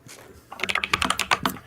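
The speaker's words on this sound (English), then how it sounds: "whoever's typing really loud" Loud, rapid typing on a computer keyboard comes in a quick irregular burst of sharp clicks, close to the microphone, with no speech.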